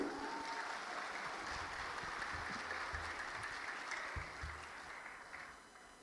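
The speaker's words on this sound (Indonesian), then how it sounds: "marilah kita berikan harapan optimis, tepuk tangan bersama kepada semua regu" An audience at a Qur'an quiz competition final claps together in sustained, steady applause that fades slightly toward the end, heard from a distance.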